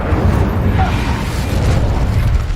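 The Incendio fire spell erupts in Hogwarts Legacy, a dense, roaring whoosh of flame with a deep rumble that holds at full strength for a couple of seconds.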